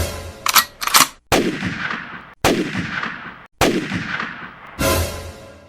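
Four loud, sharp gunshot blasts from a cartoon, each a sudden crack with a decaying tail, spaced about a second apart after a couple of quicker opening pops.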